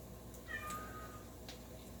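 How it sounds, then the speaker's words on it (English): A domestic cat gives a faint, thin meow over steady low background hum, heard alone without talk. "Miss Kitty says, hoorah"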